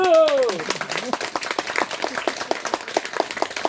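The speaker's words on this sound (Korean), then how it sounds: "박수!" Audience members clap together at an autumn mountain-spirit ceremony at a Buddhist temple, a quick ragged flurry of hand claps following a brief spoken call, fairly close and lively for a few seconds.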